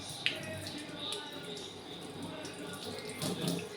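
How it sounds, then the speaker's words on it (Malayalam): Food is washed under a running kitchen tap, a steady close stream of water splashing in the sink with occasional louder splashes, and voices talk faintly over it. "കഴുകി എടുക്കുന്ന വീഡിയോ എടുക്കാം."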